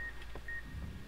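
Two short electronic beeps from the video game Fallout: New Vegas (Dead Money DLC) sound a moment apart over a low, steady background rumble.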